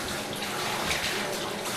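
A human shower runs over a chimpanzee bathing at a circus, a steady close hiss of spraying, splashing water with no pauses and no voices.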